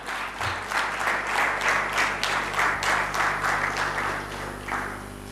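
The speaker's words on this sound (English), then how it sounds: "I want all of you to please extend one more, a loud round of applause." A loud round of applause from attendees at a business conference honoring dignitaries, many hands clapping in a full, steady burst over a faint hum, lasting about five seconds.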